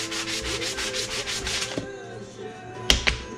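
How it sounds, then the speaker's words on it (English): Sandpaper rubs rhythmically over a wooden winch handle in quick, even back-and-forth strokes, close and loud, then slows, ending with a couple of sharp taps. "Then I'll sand the rest down."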